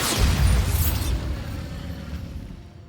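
A Bombarda explosion spell from Hogwarts Legacy lands as a deep, booming blast that rumbles loudly at first and then fades into a lingering low roar.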